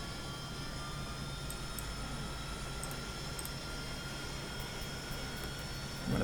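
Harrier jet engine running steadily in a video game, a continuous dense roar with a faint high whine, unchanging and moderately loud throughout, no talk.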